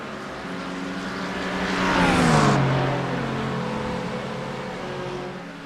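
GT race cars climbing a hill in a sim racing endurance grand prix, engines swelling as they pass close by with a falling pitch, then fading into a steady roar of more cars.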